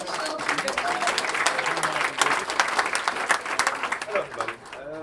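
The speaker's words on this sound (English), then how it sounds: "give a warm applause to Chris with his talk" Warm audience applause greets a speaker at a design system meetup, sustained clapping with scattered sharp claps over crowd murmur and some talking mixed in.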